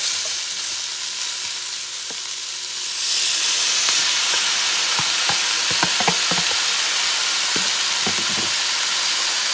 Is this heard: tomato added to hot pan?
yes